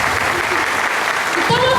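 A church congregation claps in a steady, fairly loud burst of applause, with a voice briefly rising over it near the end.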